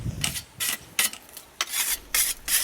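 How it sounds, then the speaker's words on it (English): A whetstone rasps along a scythe blade in six quick, rhythmic strokes, each a bright scraping swish, close and clear with short pauses between. "He finishes the job with a whetstone."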